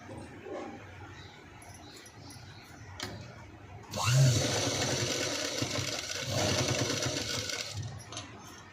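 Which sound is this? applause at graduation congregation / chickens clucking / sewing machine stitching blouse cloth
sewing machine stitching blouse cloth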